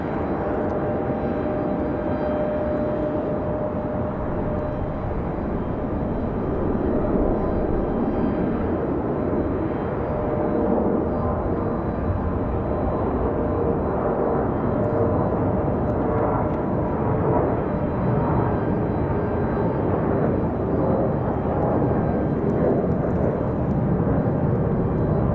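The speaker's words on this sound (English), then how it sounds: "Iceland, one of my favorite nighttime departures" Icelandair jet departing Raleigh-Durham airport at night, heard as a loud, steady, broadband engine roar that holds for the whole stretch, with no voices.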